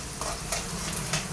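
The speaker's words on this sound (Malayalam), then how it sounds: "അപ്പൊ ഉള്ളിയെല്ലാം നല്ല കുറച്ച് ബാടിഞ്ഞതാ" Onions fry in a pan for a moringa flower dish, giving a steady, close hiss of sizzling oil with a few light clicks from stirring.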